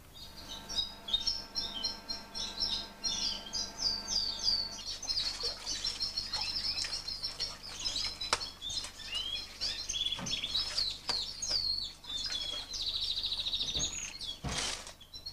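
Canaries kept in large flight cages chirp and trill continuously, a busy overlapping chorus of high, bright song with occasional sharper calls and faint wing flutters, steady and fairly close throughout.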